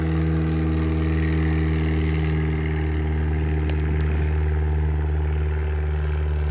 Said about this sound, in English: There's a plane.